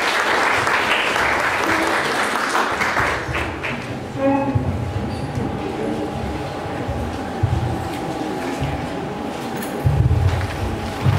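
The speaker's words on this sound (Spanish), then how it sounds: "Por favor, recibámoslo con un fuerte aplauso." Loud audience applause fills a hall after an academic speaker is introduced, dense steady clapping for several seconds that thins toward the end with a few voices underneath.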